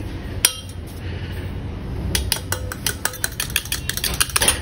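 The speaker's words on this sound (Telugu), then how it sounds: "ఎగ్స్ని క్రాక్ చేసుకొని దీన్ని కొంచెం మిక్స్ చేసుకుందాం" Eggs seasoned with salt and chilli powder whisked in a bowl for a street-style egg pasta: a single clink comes early, then a brisk run of sharp, close utensil-against-bowl clinks fills the second half.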